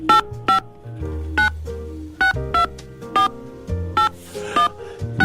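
Telephone dialing tones beep one after another at an uneven pace, each key press a short clear pulse, around a dozen in total, close and distinct with faint background noise.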